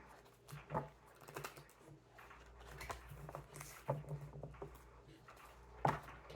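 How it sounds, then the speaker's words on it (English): Tarot cards are shuffled in soft, irregular bursts of papery riffling and light taps, quiet and close, over a faint steady hum. "We'll do 2 more shuffles."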